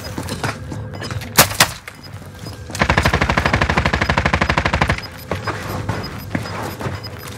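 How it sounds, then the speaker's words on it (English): Gunfire in the video game Call of Duty: Warzone on Rebirth Island with an MP40, with a few sharp single shots followed by a loud, rapid automatic burst of about two seconds, then quieter scattered battle sounds. "Receiving hostile fire."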